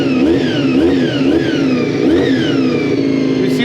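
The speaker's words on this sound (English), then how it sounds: "V4 engine." A 400 cc four-cylinder V4 superbike engine revving up and down repeatedly, loud and close, with rising and falling whine in a steady rhythm of blips, alone without talk.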